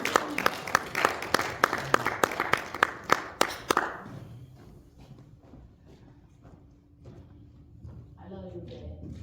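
Congregation clapping in church, a brisk burst of many hands in a steady rhythm that stops abruptly, followed by quiet room tone and faint murmuring.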